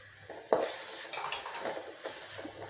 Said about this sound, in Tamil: இப்போ தக்காளி நறுக்கி வச்சதையும் இதையோட சேர்த்துக்கலாம்.